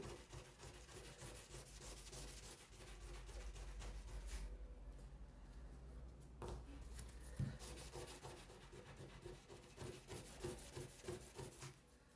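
Wood being sanded by hand with long, even strokes in a single direction during a crafts class, a steady continuous rubbing rasp that holds at a moderate level throughout with slight surges, close by and without talk.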